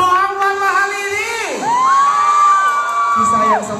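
Crowd at a live concert cheers and screams loudly, with high, sustained shrieks and whoops rising and falling close by.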